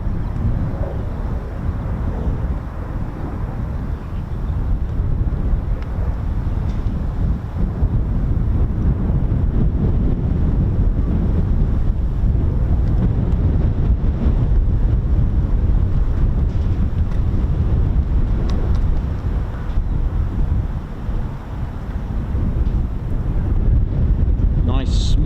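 Strong crosswind buffeting the microphone at an RAF airfield during F-35B and military jet flying, a loud, continuous rumbling roar that surges and eases throughout.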